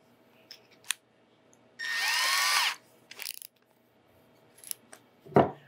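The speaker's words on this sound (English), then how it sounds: "I'm gonna drill a pilot hole" Power drill cutting a pilot hole, a short close whirring burst of just under a second, followed by a few brief clicks and knocks from handling tools.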